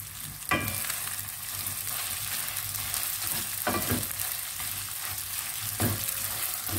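Sugar-free semolina halwa roasting in a pan with sugar, giving a steady close sizzle and frying hiss, broken by a few sharp spoon scrapes and knocks against the pan.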